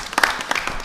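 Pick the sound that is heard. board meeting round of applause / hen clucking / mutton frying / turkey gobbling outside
board meeting round of applause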